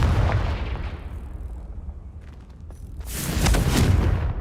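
A Confringo fire spell exploding in Hogwarts Legacy, a dense, loud blast with a rumbling low roar that dips briefly and then swells into a second burst of crackling, fiery detonation.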